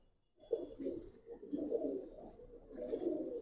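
Pigeons in a loft coo in low, throaty, repeated phrases, close and fairly soft, with a few faint higher sounds in the background.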